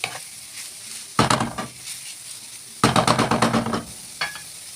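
Macaroni sizzles in a hot frying pan as it is stirred in two loud bursts of scraping and crackling frying, with quieter sizzling between them and a brief clink near the end.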